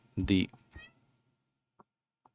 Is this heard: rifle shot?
no